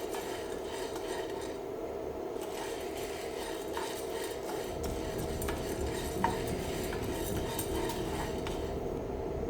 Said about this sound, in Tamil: மிதமான சூட்டில் வச்சு வறுத்துக்கணும்